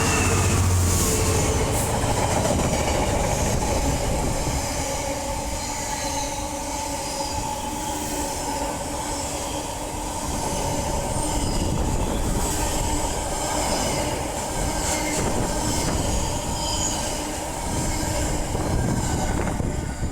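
A freight train running the bin train rolls through a station platform at Acton Bridge on the West Coast Main Line, a loud, steady rumble with clattering wheels and occasional squeals throughout.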